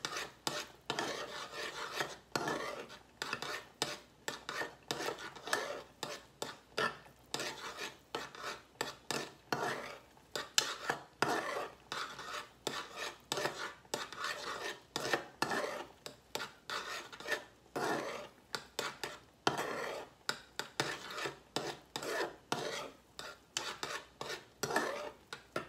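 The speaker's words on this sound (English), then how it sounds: "And you stir them because you don't want lumpy grits." Instant grits scraped and stirred in a pot, a steady rasping rhythm of spoon strokes against the pan for the whole stretch, close and alone.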